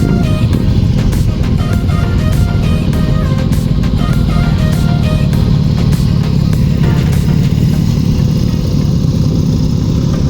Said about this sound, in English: So there's a slow motorcycle race for these super bikes.